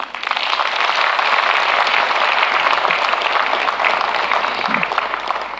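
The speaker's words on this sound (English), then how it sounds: "just so that maybe you can clap for them." A large hall audience at an anniversary celebration applauds in a dense, sustained roar of many hands clapping together, loud and continuous from start to finish.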